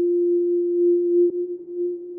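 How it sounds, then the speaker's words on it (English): A soloed sine wave from a single-cycle wavetable oscillator in the Equator2 synth gives a steady, pure sustained tone, loud and alone, with a tiny click about midway. "in wavetable, I'm gonna come to single cycle and just load up a sine wave"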